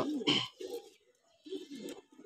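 Pigeon cooing from a racing pigeon, soft low murmuring coos in a few short bursts with quiet pauses between, close by.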